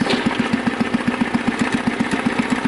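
A Husky 600 engine idling steadily, a close, even putt-putt of rapid regular firing pulses that keeps the same pace throughout with no change in throttle.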